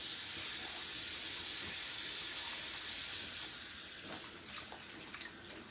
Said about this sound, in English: I'm running warm water since now that we've already peeled it.